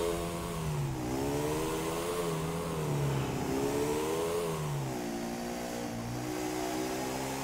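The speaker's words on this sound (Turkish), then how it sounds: "Biraz daha böyle toprak yollarda, engebeli yerlerde, dağlık bayırlık yerlerde giden bir motor." Off-road dirt motorcycle with knobby tyres in GTA 4, its mid-pitched engine droning steadily and rising and falling in revs throughout, close and continuous.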